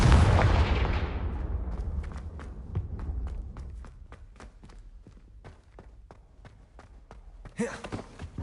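A Confringo fire spell bursts in Hogwarts Legacy with a loud, booming blast at the start that rumbles and decays over a couple of seconds, followed by a run of light, evenly spaced footsteps and a sharper burst near the end.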